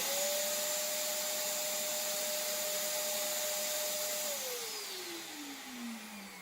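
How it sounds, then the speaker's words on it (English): A 4-horsepower shop vacuum serving as dust extraction on a CNC router runs as a steady, loud whine and rush throughout, then winds down in pitch near the end, with no talking. "my vacuum is only 4 horsepower"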